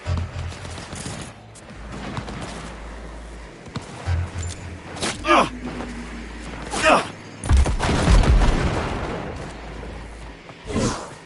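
Bursts of gunfire in a Cyberpunk 2077 combat fight: several loud, sharp volleys cluster mid-clip and toward the end, with whooshes and low rumble between them and a shouted voice early on.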